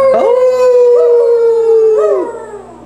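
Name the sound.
people imitating a wolf howl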